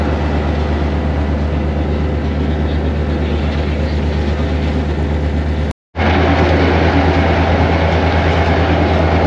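The Mohenjo-daro Express train in Sindh, Pakistan rumbles steadily along the tracks, a loud continuous roar with faint rhythmic clatter, briefly cutting out for a moment before resuming.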